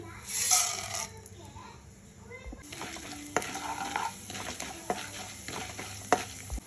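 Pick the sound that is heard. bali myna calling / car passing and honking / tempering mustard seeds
tempering mustard seeds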